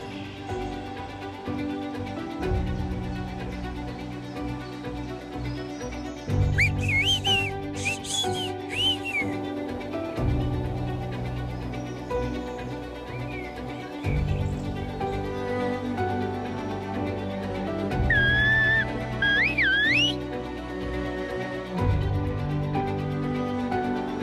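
Silbo, the whistled language of Tenerife, carried as rising and falling whistle tones in two separate bursts over a steady layer of background music.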